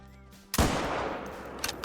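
A single .577 black powder rifle shot fires while hunting in Call of the Wild, a sudden loud blast followed by a long rolling, fading boom.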